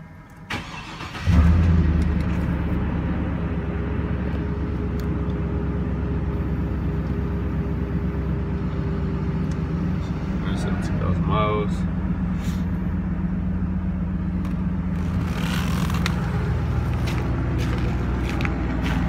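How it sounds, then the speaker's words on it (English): A Chevrolet Trailblazer SS cranks and fires up with a short loud burst, then settles into a steady, rumbling idle that runs close and continuous, with faint background noises and no clear speech. "I'm gonna do a cool startup."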